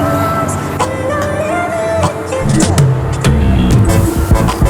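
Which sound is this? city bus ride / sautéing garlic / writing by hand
city bus ride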